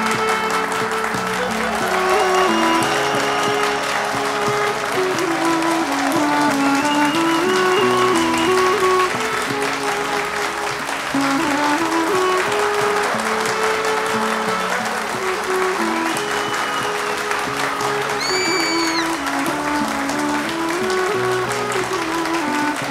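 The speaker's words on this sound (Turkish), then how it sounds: "Karadeniz'e destan yazan sevdalara kocaman alkış" Audience applause greets the stars of a Turkish TV drama as they are introduced on a studio show. The clapping stays steady and full throughout, mixed with music playing underneath.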